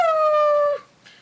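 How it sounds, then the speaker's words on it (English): A dog gives a single close, loud, drawn-out howl lasting under a second, sliding slightly downward in pitch and breaking off into a brief faint whimper. "he howled and cried pitifully"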